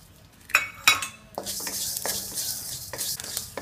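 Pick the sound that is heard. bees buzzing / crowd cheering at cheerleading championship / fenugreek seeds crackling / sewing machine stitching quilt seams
fenugreek seeds crackling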